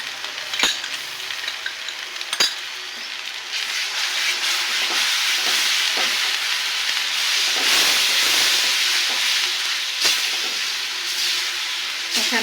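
Spice paste sizzles and hisses in a pan with browned onion paste while cooking a roast, a steady close frying hiss that swells midway, broken by a few sharp clicks.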